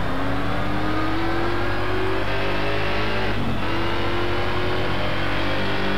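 A race car engine in Need for Speed Shift 2 winds up in a smooth, rising whine, drops briefly as if shifting gear, then climbs again, loud and steady with no talk over it.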